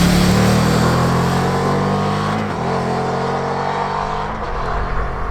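Indian FTR1200 S motorcycle cruising on a motorway at steady speed, its engine giving a smooth, continuous drone with a low hum under broadband wind and road noise, dipping briefly midway.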